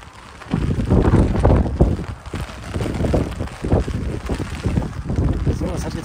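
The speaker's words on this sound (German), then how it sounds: "Aber dennoch, es ist unheimlich windig gewesen." Strong gusty wind roars and buffets the microphone on the British Army Golf Club course at Sennelager, a loud continuous rumble rising and falling throughout.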